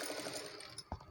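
Sewing machine stitching around a curved blouse neckline, a brief close mechanical whir with a small clunk near the end, fairly quiet and with no talking.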